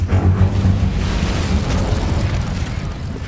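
An Incendio fire spell bursts in the video game Hogwarts Legacy, a loud rumbling whoosh of flame that holds for a few seconds with no voices.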